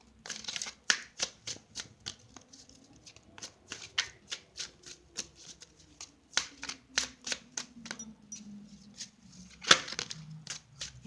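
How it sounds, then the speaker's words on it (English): A tarot deck is shuffled at length, close and alone, in a run of quick papery riffle bursts with brief pauses between them. "Yeah, long shuffles for you"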